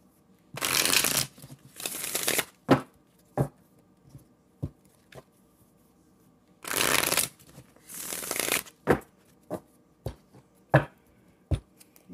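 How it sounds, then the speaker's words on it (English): A large deck of tarot cards is shuffled in two long riffling bursts, each followed by several sharp taps and flicks of the cards, close up and quiet with no talking. "Give it a little bit of a shuffle."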